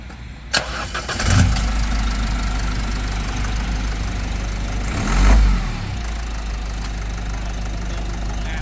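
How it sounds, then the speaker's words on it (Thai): A 2021 Isuzu D-Max Spacecab Blue Power 1.9 pickup, its catalytic converter removed, cranks and fires up with a surge, then settles into a steady, loud, close diesel idle that rumbles evenly, with a brief swell of revs midway. "เดี๋ยวสตาร์ทเครื่องให้ดู"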